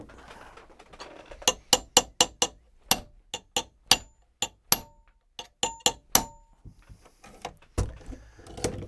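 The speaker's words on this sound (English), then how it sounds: "I'm going to get a heavier hammer." A heavier hammer strikes a gun's forend spring in a series of sharp metallic blows, some quick and clustered, others spaced apart, close and ringing.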